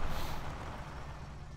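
A car engine in My Summer Car drones steadily with a low, rumbling hum while driving carefully on a gravel track, fairly loud and continuous with no talk.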